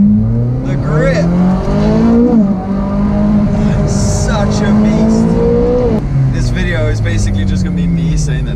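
A Ferrari driving hard, its engine note climbing and dropping through gear changes in a loud, continuous drone, with music and a voice over the top.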